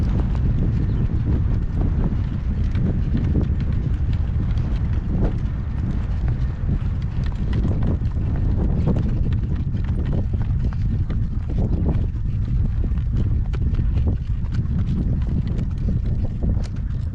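Horse hooves clip-clop steadily as the animal walks outdoors during a gale-force windstorm, the hoofbeats partly masked under continuous loud wind and rumbling microphone buffeting.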